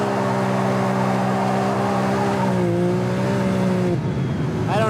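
A Can-Am Maverick X3 side-by-side with an MBRP performance exhaust revs hard nearby, its engine tone rising and shifting steadily as it accelerates, loud and continuous throughout.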